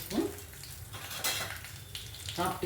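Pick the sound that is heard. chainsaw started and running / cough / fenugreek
fenugreek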